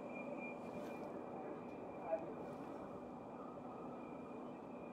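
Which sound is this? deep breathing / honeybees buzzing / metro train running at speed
metro train running at speed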